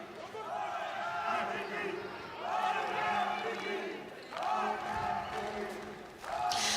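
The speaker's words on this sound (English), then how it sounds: "the crowd are trying to get behind the mature athlete" Crowd at a judo match cheering and shouting in rising surges, loud and continuous, with a commentator talking over it.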